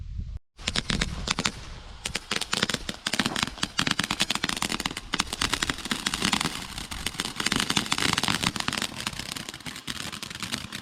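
Fireworks lit by the fuse go off in a loud, dense barrage of rapid crackling pops and bangs that runs almost unbroken for about ten seconds.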